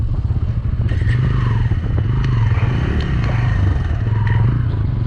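A motorcycle engine idles and putters unevenly as the bike is pushed over a rough, rocky mountain road near Mangan, close and loud, with clattering and scraping from the terrain.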